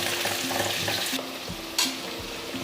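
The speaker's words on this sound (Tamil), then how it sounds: "இது ஆனியன் ஆட் பண்ணிக்கலாம். நல்லா வதக்கி விட்டுக்கலாம்." Chopped onions sautéing with cardamom in a pan, a steady close frying sizzle with stirring scrapes, a brief louder clatter near the middle.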